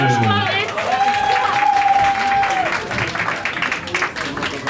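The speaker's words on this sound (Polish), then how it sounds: "Jeszcze raz brawa dla młodzieży." A tavern crowd at a live music show claps loudly for young performers, steady applause with a sustained tone and voices mixed in, tapering slightly toward the end.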